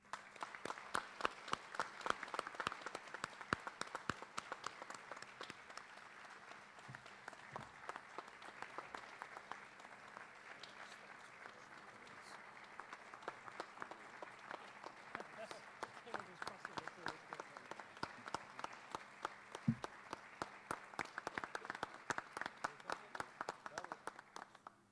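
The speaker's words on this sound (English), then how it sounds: "Please follow me in a big round of applause for Ed Bedient and Clear Choice Carpet Cleaning" At a community awards night in West Seneca, a crowd applauds Ed Bedient and Clear Choice Carpet Cleaning. Distinct individual hand claps stand out, with sustained moderate clapping for about 25 seconds and faint murmuring beneath.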